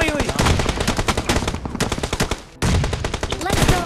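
Gunfire in the mobile battle royale game PUBG Mobile comes as rapid automatic bursts of close, loud shots, with a short break before firing resumes.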